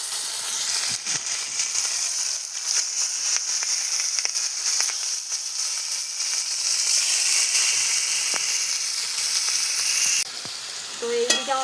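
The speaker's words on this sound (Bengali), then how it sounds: "আর এইদিকে হচ্ছে মাছের তেল দিয়ে আলু বেগুন বসিয়েছি, ভাজা করব" Potatoes and eggplant frying in fish oil in a home kitchen pan, a steady loud sizzle and hiss with occasional stirring clinks, continuous with no talk.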